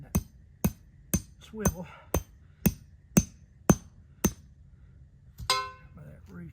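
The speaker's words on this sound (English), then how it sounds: "that spring there, I'm gonna hammer it a little bit in the ground" A hammer drives a trap spring into the ground with about nine sharp, evenly spaced strikes, close and crisp, followed by a pause and a brief rattle, with a voice speaking briefly.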